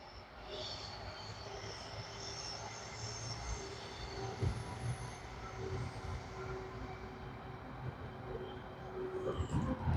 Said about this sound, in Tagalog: That train, yeah.